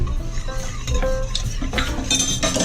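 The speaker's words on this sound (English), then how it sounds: "I'm going to whisk in a generous ½ cup of flour." A whisk stirs flour into cold chicken broth in a pot, quick scraping clinks and sloshing against the sides at close range, in an uneven rapid rhythm.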